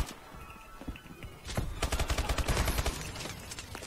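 Shotgun fired in a first-person video game: a quiet lead-in, then a dense, loud flurry of booming blasts and rapid cracks that continues to the end, with no talk.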